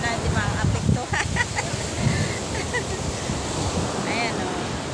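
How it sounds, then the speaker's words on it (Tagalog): Big sea waves crash and surge along a rough shoreline in steady wind, loud and close, with wind buffeting the microphone and a voice speaking over the surf. "Dahil malalaki ang alon dito"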